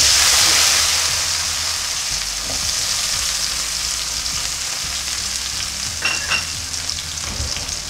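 Onion drops into hot oil already crackling with mustard seeds, giving a loud, close, steady sizzle that eases slightly after the first second, broken by a few stirring scrapes.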